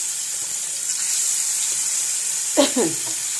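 Dried fish frying in a pan gives a continuous, even sizzle throughout, with a brief clatter of utensils near the end.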